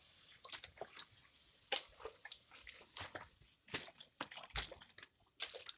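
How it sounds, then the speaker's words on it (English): Water is flicked in small bursts onto hot metal to quench a Pegaso 650 motorcycle fork part, giving close, faint, irregular hisses, spits and sizzles separated by short pauses. "now I'm quenching it off, just gently flicking a bit of water on it just to take a bit of the heat out quickly"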